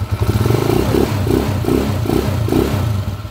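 A Honda TMX155 motorcycle fitted with a 5-speed transmission runs close by, its engine throbbing in a steady rhythmic pulse with regular swells of revs and no voices.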